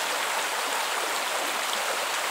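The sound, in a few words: creek flowing at Bluff Creek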